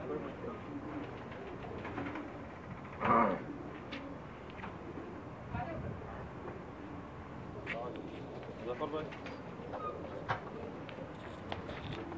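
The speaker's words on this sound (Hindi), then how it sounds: "ये एक सलेटा कबूतर है उस्ताद एहसान सानी का" Pigeons on a rooftop loft in Pakistan, with soft intermittent cooing under a background murmur and occasional low talk, one louder burst standing out briefly.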